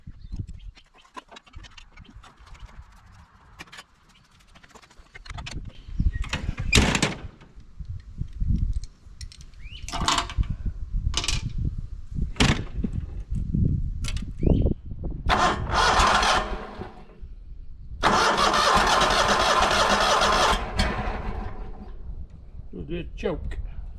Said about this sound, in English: we'll give it a start up